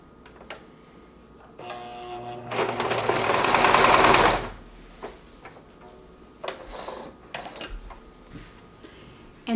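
A sewing machine quilts straight vertical lines, starting with a few short bursts of stitching and then running in one loud, rapid, continuous burst of a couple of seconds before stopping, followed by quieter handling clicks.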